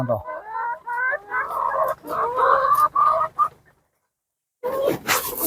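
Chickens cluck nearby at a poultry drinker in a run of short, throaty calls, then a brief silence before more clucking starts.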